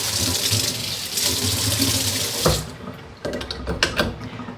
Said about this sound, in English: Just going to do a quick rinse down first.